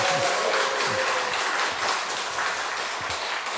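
An audience at a church seminar on worship applauds the people beside them, dense sustained clapping at a steady loud level from start to finish, with a faint voice briefly underneath.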